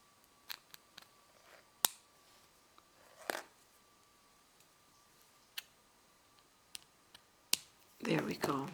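A few small, crisp snips of scissors cutting tatting thread during needle tatting of a beaded flower, scattered among quiet clicks and ending with rustling handling noise.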